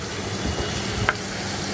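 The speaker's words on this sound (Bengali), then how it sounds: "পেঁয়াজ কুচি আমরা তেলে ভেজে নিচ্ছি।" Chopped onion frying in oil in a pan, an even, close sizzle with a faint stir or clink partway through.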